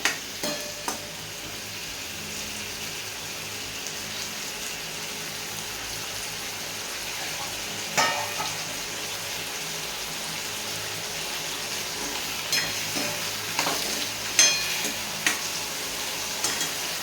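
Roasted peanuts and ground green chilies stirred in hot oil, giving a continuous close sizzle broken by intermittent spoon scrapes and clicks against the pan.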